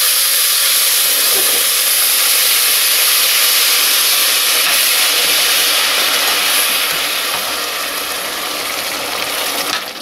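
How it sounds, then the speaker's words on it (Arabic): Boiling water is poured over lentil-and-rice Alexandrian koshary in a cooking pot, producing a loud, steady rushing hiss that continues for ten seconds and tapers slightly toward the end. "هو كده الكشري اتشوح والميه غليت. هصبها على طول"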